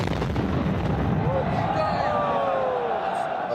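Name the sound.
explosion of a suicide bomber's belt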